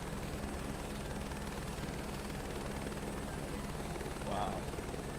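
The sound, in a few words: H125 helicopter rotor from video game Microsoft Flight Simulator 2024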